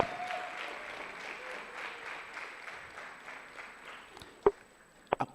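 Steady applause from an audience at a university debate championship, a broad sustained clatter of clapping that fades toward the end, followed by a few sharp knocks.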